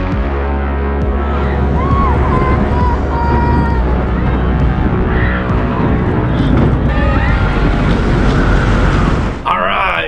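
The Cheetah Hunt launched roller coaster at Busch Gardens Tampa roars past with a loud, continuous rush of wind and track rumble, riders' voices and screams mixed in, ending abruptly near the close.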